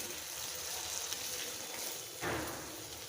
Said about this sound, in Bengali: এক পাশ হয়ে গেছে, আমি আরেক পাশ ভেজে নেব।